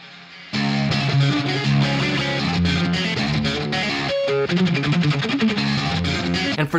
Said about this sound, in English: But it's just a beautiful sounding reverb.